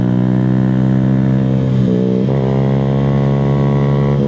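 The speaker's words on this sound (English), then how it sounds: "Look at this little Grom go" A Honda Grom mini motorcycle accelerates on a mountain road, its engine note loud and close with a steady buzzing tone that shifts pitch slightly around a gear change midway, wind rushing underneath.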